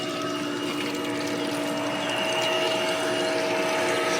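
An above-ground pool filter pump running steadily, a constant motor hum with tonal whine under the rushing churn of circulating water, close and unbroken.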